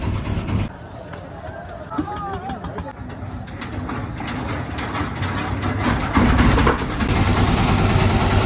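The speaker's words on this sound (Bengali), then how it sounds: "ইঞ্জিন স্টার্ট করে সামনের দিকে এগিয়ে যাচ্ছে।" A boat's engine starts up and the craft pushes ahead on open water in the Sundarbans, a steady motor drone building and growing louder toward the end, with wind and bird-like calls mixed in.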